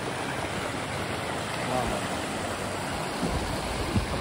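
A clear river in Barangay Yapu, Bugasong, Antique flows steadily with a broad, even rush of water, close and constant throughout, with a brief exclamation from a person.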